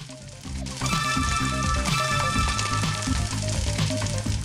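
Spring rolls frying in a pan in the Ready Steady Cook video game, a loud continuous sizzle with bright crackling and a light melodic game tune running underneath.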